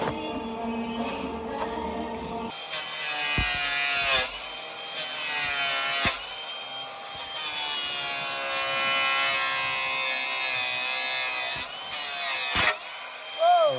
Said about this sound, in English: we'll hit it with the flappy disc and grind it flat